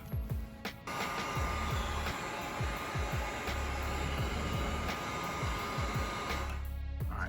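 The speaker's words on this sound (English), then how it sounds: "Get my heat gun out" A heat gun blows a steady hot-air whoosh while shrinking heat shrink tubing onto a wire for an LS-swapped 1986 Monte Carlo SS temperature gauge, starting after a brief pause, with quiet irregular clicks and taps under it.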